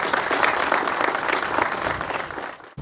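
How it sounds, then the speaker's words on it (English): Applause from an audience at a Philadelphia Fire Department ceremony honoring Chance, a retiring ATF-trained accelerant detection dog, steady dense clapping for nearly three seconds before it cuts off abruptly. "Let's give Chance a round of applause."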